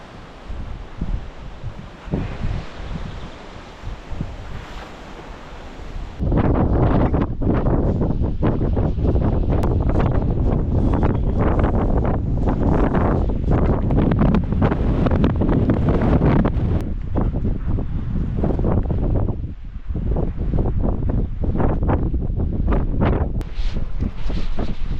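Strong spring wind outdoors on a sika deer hunt batters the microphone, starting as a softer rush and then jumping to a loud, sustained buffeting roar for most of the stretch, with no talking.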